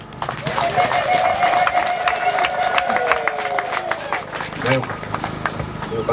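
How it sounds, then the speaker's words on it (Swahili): A church congregation claps in welcome after a baptism blessing: dense, steady applause, joined by a sustained high voice and a busy crowd throughout, then tapering near the end. "Sharika, naomba tuwapokee kwa makofi."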